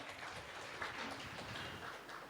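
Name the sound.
audience applauding loudly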